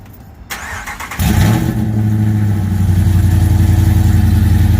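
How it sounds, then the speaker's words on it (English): A Ram truck with a 3-inch straight-pipe exhaust off the Y pipe fires up after a short quiet moment. It settles into a loud, deep, throbbing idle that fills the rest of the clip, close and with no talking. "it's basically running 3-inch straight exhaust right off the Y pipe. And it's gonna be loud"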